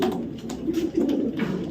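A male red checker racing pigeon coos in short, throaty pulses close by, a brief run of soft rolling calls with no talking.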